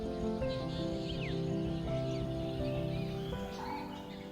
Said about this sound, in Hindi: उनकी चहचहाहट भरतपुर को एक अनूठी आभा से भर देते हैं।